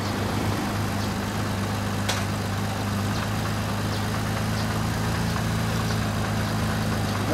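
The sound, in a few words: motorcycle engine idling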